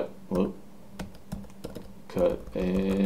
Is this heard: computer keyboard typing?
yes